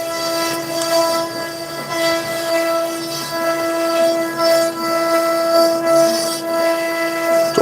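A CNC router's end mill cuts solid Douglas fir (Oregon pine) for a fishing rod holder, giving off a steady, loud, high-pitched whine that holds throughout with slight fluctuations.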